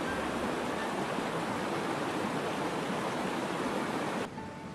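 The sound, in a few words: waterfall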